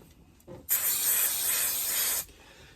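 A single sustained hiss of spray adhesive lasts about a second and a half, loud and close, after a brief softer puff.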